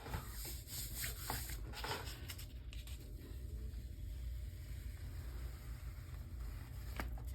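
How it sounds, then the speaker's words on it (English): Paper rubbed over a stencil to pick up a print, a quiet continuous scratchy rubbing with occasional sharper strokes, close and steady, without any talk. "Be sure to rub and get on all your little spots."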